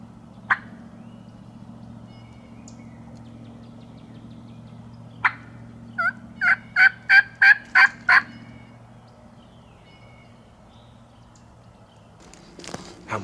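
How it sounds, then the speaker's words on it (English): A wild turkey gobbler in Georgia gobbles from the roost in a rapid rattling burst of about six notes, moderately distant, over a low steady hum, with a few faint knocks around it. "that that's the last bird I hear gobble today?"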